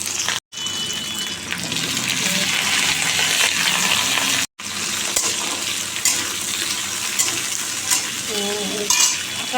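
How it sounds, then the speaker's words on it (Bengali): Black cumin seeds and dried red chillies sizzle in hot oil at the start of a pumpkin, bean and potato curry. The loud, dense hiss and spatter runs continuously, broken by two brief drops to silence. "আমি এর মধ্যে কালো জিরে শুক্রো লঙ্কা ফোড়ন দিলাম"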